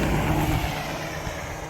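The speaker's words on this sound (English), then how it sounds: "More traffic." Road traffic passes by a rural property with gardens and an orchard: a steady, fairly close broadband roar of a vehicle that holds level and then eases off slightly.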